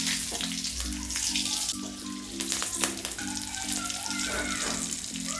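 Whole spices including cinnamon, cardamom, cloves, green and dried chillies frying in oil, a close crackling sizzle over a steady low pulsing hum, with occasional utensil clicks.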